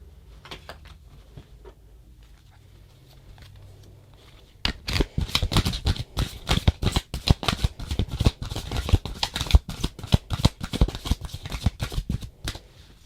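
Tarot cards being shuffled by hand and pulled from the deck, a quiet hum at first, then a long run of quick, close papery flicks and riffles.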